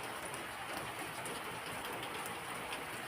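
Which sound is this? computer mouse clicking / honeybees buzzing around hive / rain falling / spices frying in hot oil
rain falling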